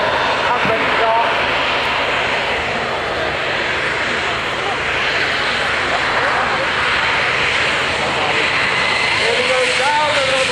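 A light aircraft engine at an air show roars steadily and loudly as the plane takes off down the runway, a continuous drone filling the scene.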